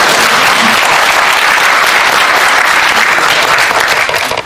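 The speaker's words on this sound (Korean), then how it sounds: "박수 치세요" Audience at a political economy concert event breaking into loud, close applause, a dense continuous wash of clapping that stays strong throughout and cuts off abruptly at the end.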